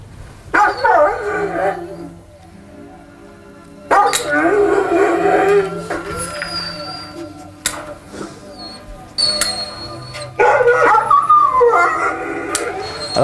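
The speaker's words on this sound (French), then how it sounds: "Monsieur va se promener avec ses chiens, 1, 2, 3 fois par jour." Sled dogs on a training run, heard as a loud, close chorus of barks, yips and long howls that keeps going in waves, with several dogs calling over one another.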